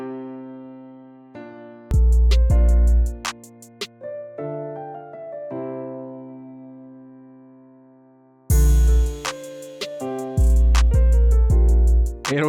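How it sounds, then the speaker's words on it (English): An early beginner hip-hop beat made in FL Studio on a laptop: a plain melodic loop with booming bass hits and rapid hi-hat rolls dropping in and out, loud and alone. "this is one of my first beats I made on my laptop."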